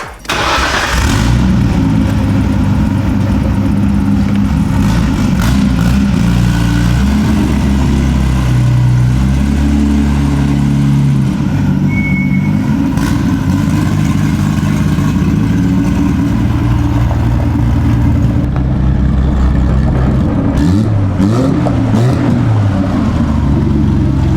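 A Nissan R32 GTR engine runs loud and close as the car is driven around, a continuous rumbling idle with a few light revs throughout.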